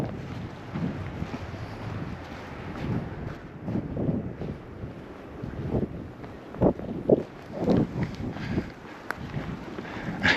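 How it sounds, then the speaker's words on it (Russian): Steady wind gusts buffet the microphone in a low, rumbling roar in snowy Sokolniki Park, Moscow, with occasional louder blasts and no talking. "Ветер со всех сторон."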